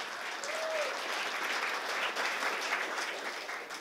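Audience applause for the hosts at a talk held in a Presbyterian church, steady sustained clapping from a room full of people, fairly distant and even throughout.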